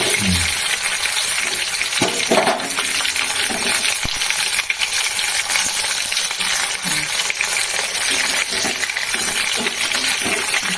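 Pieces of fish belly sizzle loudly and continuously in hot oil as they brown, with occasional clicks and scrapes of a utensil against the pan.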